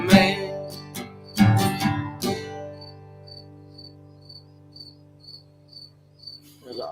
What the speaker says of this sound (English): when I was in the house, I was hearing crickets in the house